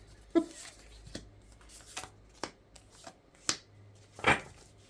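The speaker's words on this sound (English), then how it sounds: "Okay, what a messy shuffle." Playing cards being shuffled in several short riffling bursts separated by pauses, quiet and close, with no talking.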